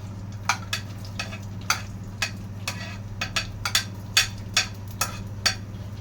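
Chopped onions and shallots hitting hot coconut oil, with a steady low sizzle under scattered sharp crackles and pops, close up and with no voices.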